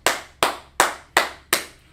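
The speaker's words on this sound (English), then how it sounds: "Clap it up in class, okay?" Five sharp, evenly spaced hand claps in a class setting, loud and close, alone with no talk.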